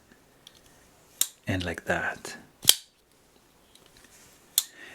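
A Shirogorov Quantum flipper pocketknife blade flicks open with a couple of sharp metallic clicks, followed by a brief spoken comment and another crisp click.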